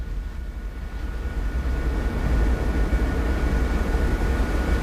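A helicopter flies above a Houston police car chase, producing a steady, loud, low rotor and engine rumble that holds constant and swells slightly midway, with no voices heard.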